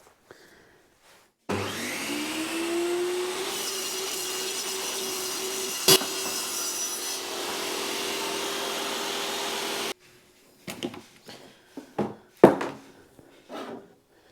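A power saw cuts through a board during a council flat renovation in Edinburgh, giving a steady, loud whining cut for about eight seconds, followed by scattered knocks and handling noises.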